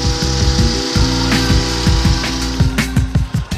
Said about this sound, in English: might want to use a petrol-driven hedge trimmer.